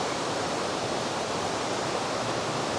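Creek water rushes steadily after tropical storm flash flooding, a dense, continuous broadband roar with no breaks.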